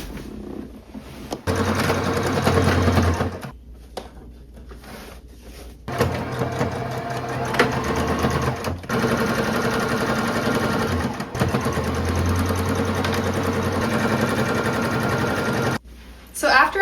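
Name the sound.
sewing machine sewing a rolled hem on a top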